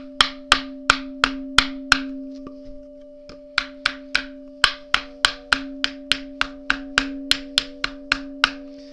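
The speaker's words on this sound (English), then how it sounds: "when you're hitting the blocks, you're not holding the hammer like this" A small tuning hammer strikes the wooden blocks on a tabla's side in quick, sharp, evenly spaced taps, about two dozen close knocks, with a steady ringing drum tone sustaining underneath.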